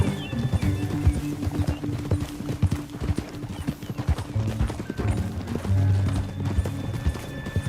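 Rhythmic clip-clop of horse hooves as a rider travels on horseback in Red Dead Redemption 2, steady and close, mixed with creaking tack, a horse's snort or whinny and other game sounds.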